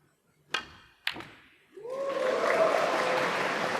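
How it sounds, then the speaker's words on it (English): Two sharp knocks of snooker balls at a World Grand Prix match ring out in a quiet arena, then a crowd breaks into sustained applause that swells and holds, with a brief vocal cry rising through it. "applause from the crowd"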